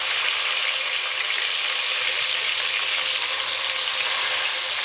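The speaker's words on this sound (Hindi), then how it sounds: "अब हम इसमें टमाटर और सब्ज़ मिर्चें डाल देंगे। और इसको हम थोड़ा सा भून लेंगे।" Tomatoes and green chilies fry in hot oil with a dense, even hiss that stays loud and constant throughout, with no stirring accents and no speech.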